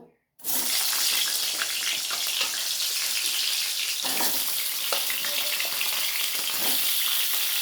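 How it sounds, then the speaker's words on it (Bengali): Pointed gourd (potol) pieces hit hot white oil and set off a loud, dense, continuous sizzle that starts abruptly and holds steady with small crackles throughout. "এবার আমি পটলগুলো দিয়ে ভেজে নেবো"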